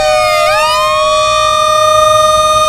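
A loud siren wails close by, sweeping up in pitch then holding a steady, piercing tone.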